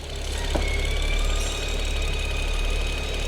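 A BMW engine with a fault that makes an abnormal whistling noise, heard up close with its top cover removed: a steady idle hum topped by a thin, constant high whistle, with no talking.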